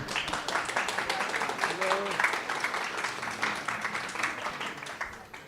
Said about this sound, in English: It's not often you get like applause before you speak.